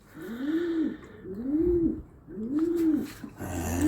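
Pigeons cooing in a loft section, a repeated rhythmic coo about every second, close and clear, with light rustling and clicks in between.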